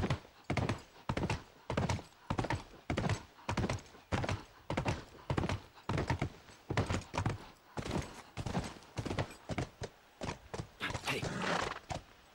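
Horse hooves clop in the video game The Last of Us, a steady walking rhythm of heavy thuds that runs on for several seconds and turns faster and busier toward the end.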